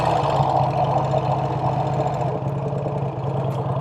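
A Vincent Rapide motorcycle engine, a rare vintage bike, pulls in second gear on a road ride, a loud, close, steady throbbing beat with an even mechanical pulse and wind rush throughout.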